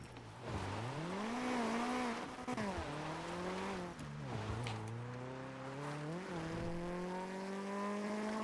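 A car engine revs and climbs through gears in the video game GTA NoPixel, its tone sweeping up and down repeatedly with tire squeal, loud and continuous for several seconds with no talk.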